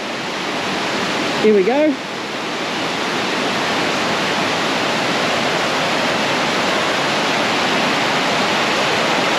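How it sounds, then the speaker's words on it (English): Mae Ya waterfall in Chiang Mai roars as fast-flowing water pours down, a loud, dense, steady rush that fills the scene, with a brief voice speaking near the start. "So look at the speed of that water going down there."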